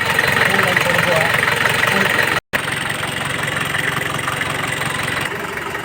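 A turbo diesel engine idles loud and near while being adjusted, a constant rough drone with a knocking edge that cuts out for a split second and resumes, while someone talks over it.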